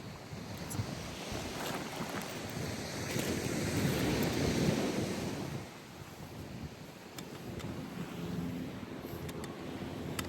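Ocean waves wash steadily by the water while wind buffets the microphone, a continuous rushing roar that swells, eases around the middle, then builds again, with no talking.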